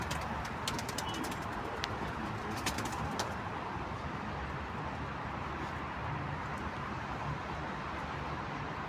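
Tumbler pigeon cooing at a loft where game birds are kept, soft repeated coos over a steady background hum with a few brief chirps early on, no speech.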